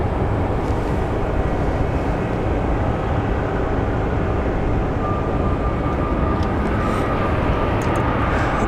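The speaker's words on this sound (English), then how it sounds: "looks like our WestJet is starting to depart" A WestJet airliner departs from Phoenix Sky Harbor airport with a steady, broad engine roar that holds constant and rumbles throughout, fairly loud with no speech.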